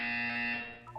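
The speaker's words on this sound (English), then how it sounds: "When you hear the buzzer, look up at the ceiling." A loud, steady electronic buzzer tone from a video game's wellness exercise sounds for about a second, then drops away.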